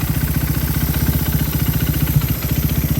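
A Raider 150 carburetor motorcycle engine idling with a steady, rapid mechanical knocking tick, close and even, with no talk.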